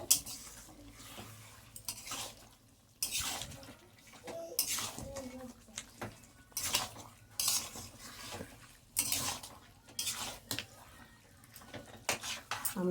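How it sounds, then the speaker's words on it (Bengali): Chicken stirred and fried in a pan for kosha, with repeated bursts of spatula scraping against metal over a low sizzle, spaced unevenly and moderately near. "চিকেনটা দিয়ে এবার ভালোভাবে কষাতে হবে।"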